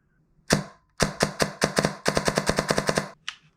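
DSG Vector airsoft gun firing semi-auto, a close sharp shot followed by a rapid string of about fifteen crisp cracks in quick succession, then one last shot, with no speech.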